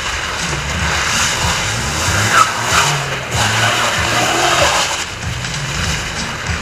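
Car engines rev and whine through turns and bends on an ice obstacle course during a driving competition, a continuous nearby drone with shifting pitch and occasional tire noise.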